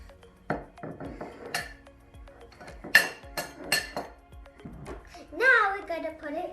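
Chocolate candy poured into a bowl while making chocolate crackles, giving a series of clinks, rattles and clatters against the bowl, with a voice speaking in between.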